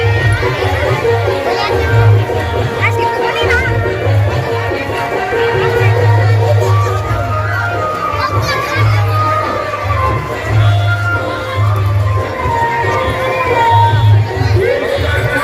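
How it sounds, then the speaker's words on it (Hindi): Dense crowd of devotees at a village temple festival in Thalwara, a steady roar of overlapping voices, shouts and children calling, with a loud low rumble running throughout. "देखिए कितनी भीड़ है श्रद्धालुओं की।"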